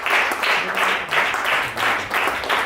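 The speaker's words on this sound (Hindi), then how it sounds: "धन्यवाद के ताली दे सकते हैं।" A church congregation at a Pentecostal gathering claps together in steady, loud applause that swells and dips in rhythmic waves, with no one speaking over it.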